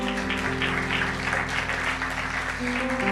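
A church congregation applauds steadily, a dense wash of clapping that holds for the whole stretch, with sustained organ or keyboard tones underneath.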